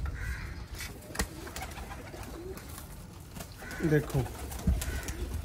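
Pigeons cooing at a loft of branded racing pigeons, soft low coos in short bursts beneath someone talking nearby.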